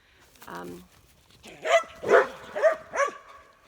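A large male dog gives four deep barks in quick succession, close and fairly loud, following a brief higher whine.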